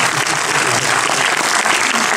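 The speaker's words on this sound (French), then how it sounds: "On a envie de vous applaudir comme un théâtre." Theatre audience applauding at a film preview screening, dense continuous clapping filling the whole stretch, loud and close with no talk over it.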